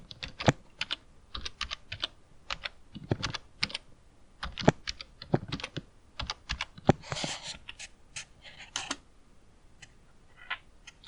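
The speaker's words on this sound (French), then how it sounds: "Alors là, il faut que je tape mon code encore." Irregular clicks of fingers typing a password on a computer keyboard, close and clear, tapping in short uneven runs with small pauses, no voices.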